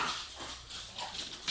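A dog whimpers and whines close by under a wash of broad, hissy background noise, with no talking.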